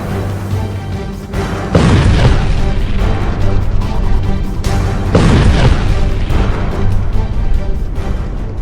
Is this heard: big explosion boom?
yes